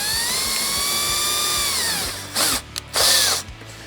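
High-pitched whine of a drill boring a pilot hole into a racing helmet shell for HANS device anchors, a sustained close run that slows, then two short sharp bursts.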